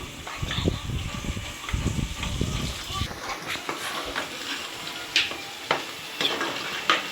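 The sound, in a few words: onions frying in oil in a pan for fish curry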